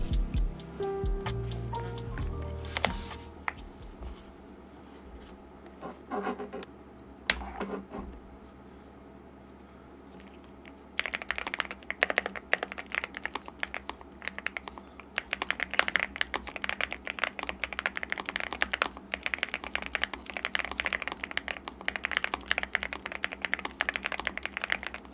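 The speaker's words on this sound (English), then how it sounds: "Let's quickly go through a sound test." Typing on a NuPhy Gem80 mechanical keyboard, first sparse keystrokes and a few isolated clacks, then a long stretch of rapid, continuous clicky tapping, close and clear.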